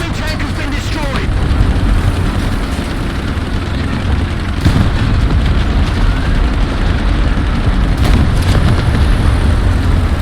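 Enemy tank exploding in a tank video game featuring the M4A5 Ram II, heavy booms and bursts over a constant low engine rumble, with voices talking through it.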